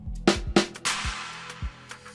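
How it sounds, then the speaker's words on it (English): Sets of snares used as rolls in an Afrobeats instrumental: a few sharp bright snare cracks and a noisy burst ride over deep kick thumps in a short rhythmic pattern, without speech. "Next up, we have some sets of snares that was used as rolls in the song"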